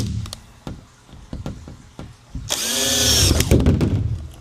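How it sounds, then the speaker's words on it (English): A cordless power drill bores holes into thin metal sheet during a parking air conditioner installation, with tapping and handling knocks first, then a loud sustained whine of the bit biting through, close up. "Now I'm gonna drill in the 4 corners."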